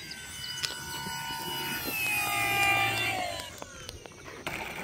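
An FMS Kingfisher 1.4m RC airplane comes in to land, its electric motor whine sweeping downward in pitch as it passes overhead, rising then fading, with faint outdoor rustle around it.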